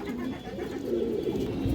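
A khaki pigeon kept among fancy breeds cooing close by, a low soft rolling coo that runs for the whole moment, with faint background noise.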